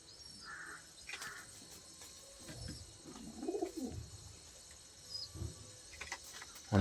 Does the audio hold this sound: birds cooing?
yes